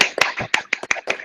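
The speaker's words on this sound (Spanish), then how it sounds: "Aplausos." Applause at the close of a Spanish-language scientific talk on exhausted microglia in Alzheimer's disease: a short burst of scattered, uneven hand claps from a small audience, heard up close and with no talk over it.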